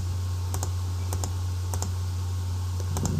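Sharp mouse clicks on a reset button in an Excel spreadsheet, arriving in short double-click pairs spaced about half a second apart over a steady low electrical hum.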